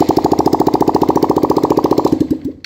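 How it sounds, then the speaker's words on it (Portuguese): A motorcycle engine runs with no exhaust fitted, loud rapid even popping firing beats that suddenly stop as the engine dies. "Só vai fazer barulho porque tá sem escapamento."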